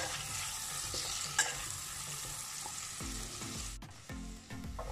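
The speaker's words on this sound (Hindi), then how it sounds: "दो अदद प्याज मैंने बारीक चॉप करके रखे हुए थे, वो इसमें हम ऐड कर देंगे और उसको सौते करेंगे।" Finely chopped onions sauté in a pan, a soft steady sizzle and frying hiss broken by the scrape and clatter of stirring toward the end, close and quiet with no voices.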